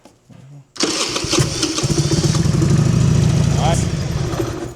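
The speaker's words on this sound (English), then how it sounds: "let's show you guys the bike starting now" A 2003 Harley Sportster motorcycle engine cranks and fires, then settles into a loud, steady, lumpy idle close by, after a brief quiet moment with a few sounds at the start.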